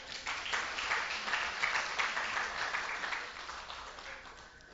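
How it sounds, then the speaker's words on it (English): An audience at a correctional facility awards evening claps in a faint, sustained round of applause, heard from a distance without a break for the few seconds. "give yourself a round of applause."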